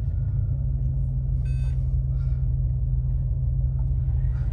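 A 1990 Bentley Mulsanne S engine idling right after starting: a steady, deep, loud rumble, smooth and continuous throughout, with no talking.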